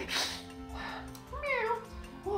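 A voice imitates a cat meowing in a drawn-out, wavering, cartoonish way, loud and close, with some speech-like vocal texture.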